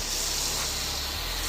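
A continuous hiss of Old Glory foam soap sprayed onto a work van, steady and close, with no break over its short length.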